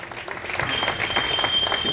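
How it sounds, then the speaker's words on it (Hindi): An audience applauds to welcome Kunwarkant ji, a local councillor, at a Hanuman Jayanti celebration in Varanasi, with steady, dense clapping throughout. "उनका तालियों से स्वागत किया"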